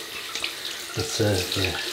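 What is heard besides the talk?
rinsing shaving brush under running water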